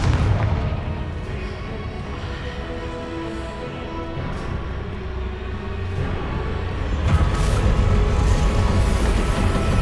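A Confringo fire-blast spell in Hogwarts Legacy, a sustained roaring, rumbling burst of explosive impacts that swells and grows louder toward the end, heard alone without talk.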